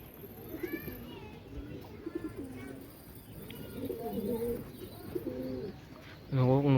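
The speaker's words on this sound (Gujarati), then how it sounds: "કબૂતર આવ્યું જો ઉડે આમ ઉપર" A pigeon coos in soft repeated phrases over a low outdoor background, and a louder burst at the end may be wing flaps as it takes off. A person talks briefly nearby.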